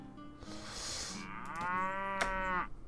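Cattle in Mount and Blade Warband let out a long, loud, drawn-out moo, close by and clear, with no talking.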